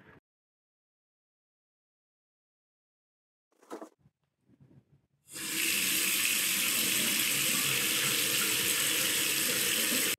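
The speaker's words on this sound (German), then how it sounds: "Dann läuft die Pumpe los," Hot water circulation pump switching on, after a few faint clicks, then a steady loud rush of warm water flowing from a shower or tap, close and continuous.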